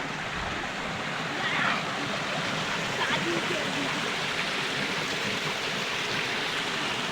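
Steady rushing of falling water from a waterfall in Araku, a broad continuous roar with no clear pauses, fairly loud and close.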